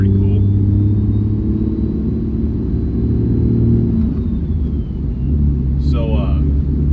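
A 2013 Cummins 6.7 diesel pickup with a G56 six-speed manual and a swapped S464 non-VGT turbo rumbles and revs nearby, a deep steady exhaust drone with a brief whine near the end, under a voice.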